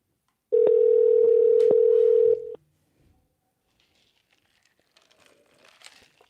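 A Google Voice call connection tone sounds as a steady single beep lasting nearly two seconds. It is clean and moderately loud and stops abruptly, followed by faint rustling and handling noise.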